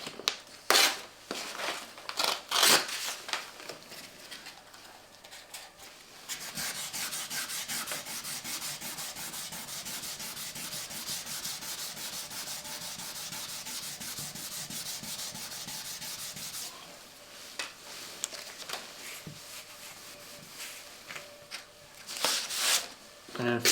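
A fibreglass plug is sanded by hand with 800 grit sandpaper, a steady close scratchy rubbing that runs unbroken for about ten seconds, with scattered knocks and handling noises before and after.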